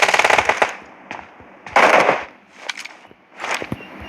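Automatic gunfire in the PUBG Mobile video game comes in three loud, rapid bursts separated by short gaps, close and crisp.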